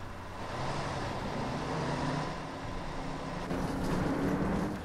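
A city bus in the OMSI 2 bus simulator game rolls past as heard from outside, a steady diesel drone with tonal engine hum and road noise, swelling slightly louder near the end.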